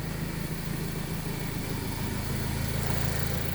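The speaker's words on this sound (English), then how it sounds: "The exhaust is pretty loud." Modified exhaust on a 2012 third-generation Ford Focus, a steady low idling rumble with a droning hum, close and continuous with no talking.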